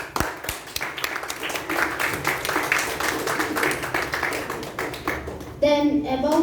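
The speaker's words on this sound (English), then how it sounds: "A round of applause for them." An audience at a youth leadership programme event claps for the youth leaders, a moderate steady patter of hands with a voice breaking in near the end.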